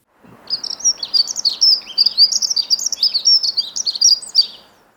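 A small bird sings a rapid, high-pitched phrase of varied squeaky, warbling notes lasting a few seconds, close and clear against a quiet background.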